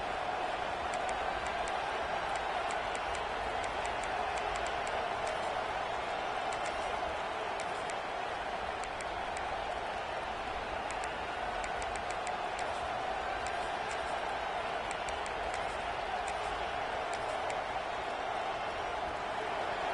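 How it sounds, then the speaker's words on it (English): A large crowd roars continuously in the distance in a college football video game, a steady wash of cheering and murmur with scattered claps throughout. "Listen to the crowd energy here in the early going."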